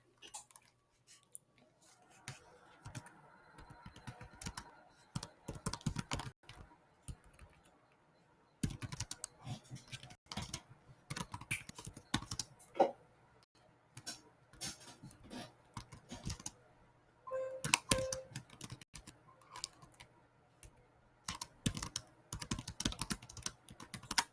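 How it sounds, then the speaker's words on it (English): Typing on a computer keyboard, with irregular bursts of close key clicks broken by short pauses, quiet and continuous throughout. "I'm not really making any sense what I'm typing up here"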